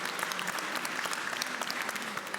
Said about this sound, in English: So please have a round of applause for Alfons